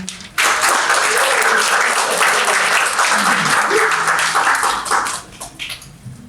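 An audience at a poetry celebration bursts into sustained applause welcoming a speaker, a dense burst of many hands clapping that starts suddenly, holds steady, then thins out toward the end.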